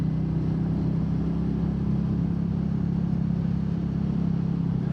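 Royal Enfield Meteor 350 single-cylinder motorcycle engine droning steadily at cruising speed, a continuous low rumble with wind roar that holds an even level throughout, with no talking.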